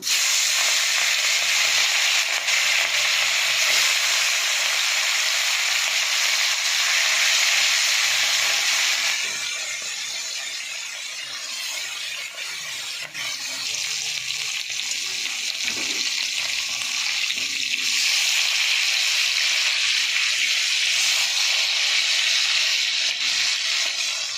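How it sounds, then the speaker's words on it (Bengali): Steady loud hiss of pomfret fish frying in hot oil in a wok, continuous and close, dipping briefly in the middle before returning at full strength. "আমার পমফ্রেট মাছ ভাজা হয়ে গেছে"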